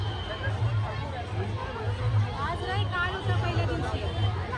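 Crowd hubbub at the Bandra Reclamation fair on Carter Road in Mumbai, a dense steady babble of many voices close around, with a low rhythmic thump of music pulsing underneath.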